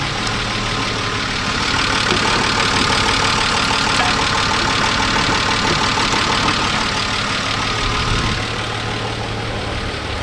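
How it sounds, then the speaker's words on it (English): A BMW E36 M3 with the S52 engine idles roughly after more than ten years unused, a steady, rattly, tractor-like drone held close and loud throughout with no talk. "Thing kind of sounds like a tractor,"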